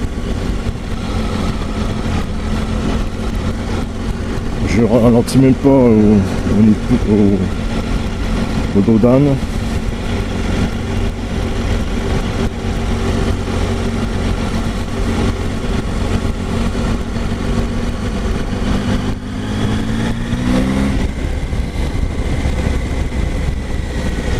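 A 2019 Triumph Tiger 800 XR motorcycle rides in fourth gear below 2000 rpm, its engine a steady low drone with brief rising revs, while the rider talks over it throughout.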